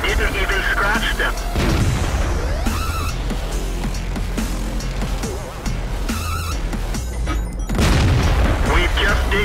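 Tank cannon fire in World of Tanks, heavy booming shots with deep rumbling decay, several loud blasts spread through the stretch amid battle noise, with someone talking over parts.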